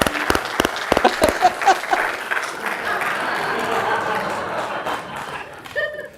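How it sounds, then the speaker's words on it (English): A live audience applauds for Owen Schroyer, a burst of clapping with a few chuckles that swells into a steady mid-distance roar, then tapers off as a voice begins near the end. "Give him a good round of applause."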